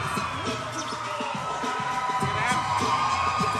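Crowd at a live independent pro wrestling show reacting in the arena, a roomy din of cheers and shouting voices with a commentator talking over it in the foreground.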